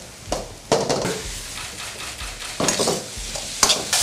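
Thai lemongrass chili paste stir-fried in a pan: a sizzling hiss broken by several loud bursts of scraping and tossing as the paste is moved around, close and without speech.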